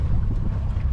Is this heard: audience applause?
no